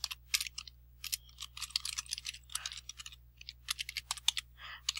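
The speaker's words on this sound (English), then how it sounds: "I'm going to type some kind of description." Rapid clicking of typing on a computer keyboard, close and clear, with irregular bursts of keystrokes and short pauses over a low steady hum.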